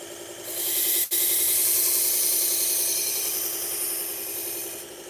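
A knife edge is drawn steadily along a sharpening stone to raise a burr, giving a continuous close, loud abrasive rasp with one brief break early on and no talk.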